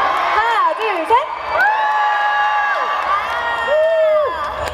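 A concert crowd at the Kia Hope Dream Concert, cheering and screaming loudly, with high shrieking voices rising and holding in several long sustained waves.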